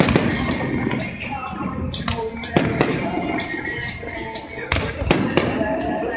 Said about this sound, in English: Luckily they still doing fireworks after 30 minutes.